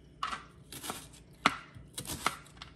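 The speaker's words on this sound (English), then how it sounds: "so I'm gonna cut my onion up" A knife chops through a medium white onion on a board in several crisp, close strikes spaced unevenly, each with a sharp knock and brief crunch, with no voices over it.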